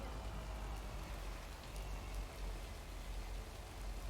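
Steady rain falls in the video game LAKE, a continuous soft hiss of raindrops on surfaces that holds an even level for the whole stretch, with no talking over it.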